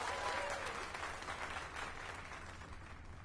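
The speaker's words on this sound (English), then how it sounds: "Let us give a round of applause for young Fulvio" Crowd applause in Dragon's Dogma 2, a dense wash of many hands clapping at steady intensity throughout, full and close, with no voices over it.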